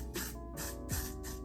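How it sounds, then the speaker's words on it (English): Hair spray is misted over a braided wig in four short, soft, evenly spaced hissing puffs, close by, over a low background hum. "I'm gonna just lightly like spray over it"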